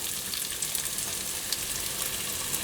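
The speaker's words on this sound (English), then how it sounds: "So a little test piece of onions beginning to sizzle," Onions sizzle steadily in a hot frying pan, a constant close crackle with small pops and no talking.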